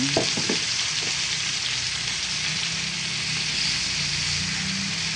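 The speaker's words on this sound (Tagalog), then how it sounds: "ilalagay na po natin ang mga iprinito nating bangus" Fried milkfish (bangus) pieces go into a hot pan with a few soft knocks at the start, then a steady, dense sizzle continues close by.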